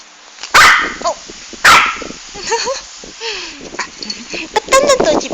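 A three-month-old puppy named Chessie gives two sharp, loud barks, then a run of higher yips and whiny vocalizations close by, with a voice speaking between them.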